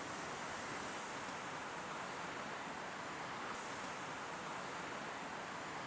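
Ocean waves breaking at night near a solo camping spot, a steady, dense broadband wash of surf that stays continuous and fairly even in loudness, with a wind-like hiss and no voices.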